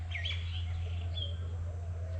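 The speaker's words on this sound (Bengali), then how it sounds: "চারিদিকে সুন্দর পাখি ডাকছে" Birdsong around a forest eco resort on Matha Buru hill in Purulia: scattered high chirps and short whistled phrases over a steady low background hum, moderately distant, with no talking.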